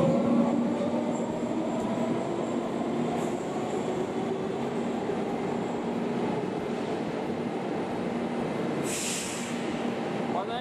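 Continuous rumble of a metro train running through Paveletskaya station on the Moscow Metro, with steady rolling wheel noise and a brief hiss near the end.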